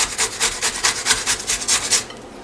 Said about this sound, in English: You grate it until everything is off. All the flesh is off the seed.